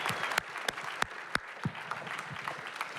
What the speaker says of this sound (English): Big round of applause to the judges and all the contestants.